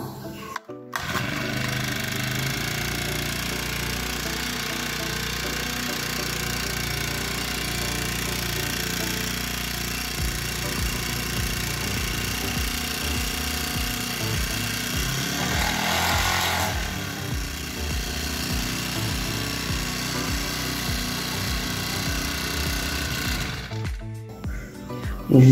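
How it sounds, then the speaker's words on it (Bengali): A brush cutter used as a paddy-cutting machine runs its small engine in a steady, loud, close-up drone that holds nearly unbroken from start to finish. "তো আমরা এখন মেশিনটি স্টার্ট করে দেখব যে মেশিন আমাদের স্টার্ট হয় কি না।"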